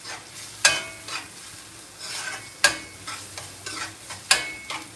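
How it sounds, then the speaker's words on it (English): Yellow rice with canned beef being stirred in a pot: three sharp spoon scrapes against the metal, roughly two seconds apart, with soft shuffling and a light sizzle between them, close and clear. "So I stir this."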